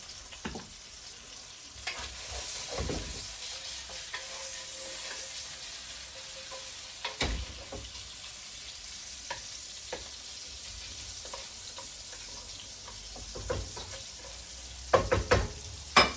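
Steady sizzling of hot oil in a pan while making carbonara, with scraping stirs and light clinks throughout, close and fairly quiet.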